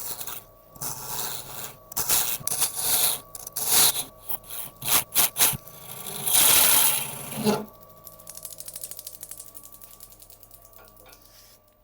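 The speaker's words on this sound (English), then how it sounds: "I'm just going to come in here with a carbide, start trimming it back" A carbide tool trims a yew and resin blank spinning on a lathe, giving rough, scraping bursts of cutting noise in irregular pulses, loud and close, before settling into a steadier lower hum of the machine.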